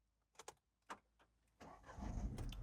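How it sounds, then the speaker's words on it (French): A Citroën C3 car starting: a few soft clicks and key or button sounds, then the engine turns over and catches into a steady low rumble that grows through the last second. Quiet, close and with no speech. "Donc, je démarre la voiture,"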